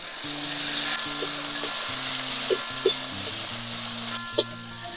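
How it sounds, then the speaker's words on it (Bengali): Chopped tomato fries in a pan with onions browned to red for a lentil and gourd-leaf dal, a soft steady sizzle under background music, with a few sharp clinks of utensils. "এখন একটা টমেটো কুচি দিয়ে দিচ্ছি।"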